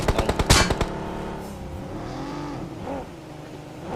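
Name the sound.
vehicle driving in a battle royale video game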